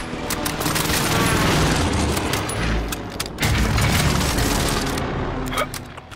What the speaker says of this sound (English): Mark target for airstrike. This is Phoenix 3, strike inbound.